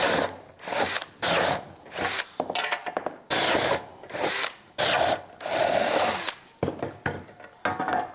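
A power drill bores holes in an expensive piece of aluminium in a barn workshop, in repeated bursts of about a second each separated by short pauses, close and fairly loud.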